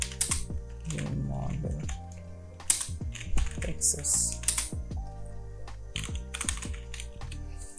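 Keyboard typing in a search tool: a steady run of quick key clicks with a few brief gaps, fairly close and clear, with a little speech partly heard in the background.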